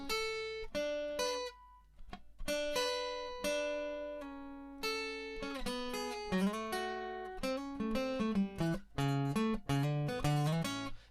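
Single melodic instrument playing a line in thirds, skipping notes and leaping between intervals, each note distinct and sustained, alone and fairly loud, shifting into quicker mixed runs toward the end.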